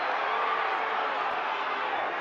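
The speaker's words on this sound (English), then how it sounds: "Crowd calling for some interference there on Wilson Harris" At a Louisville City FC versus Detroit City FC soccer match, a stadium crowd roars in a steady, distant wash of noise while calling for a foul, with a commentator's voice faintly mixed in.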